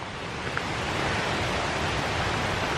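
A creek flows steadily beside a Tennessee hiking trail, a constant broad rush of water heard alone without talk.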